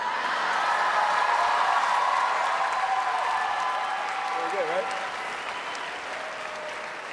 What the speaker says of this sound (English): I just want to soak in the applause on that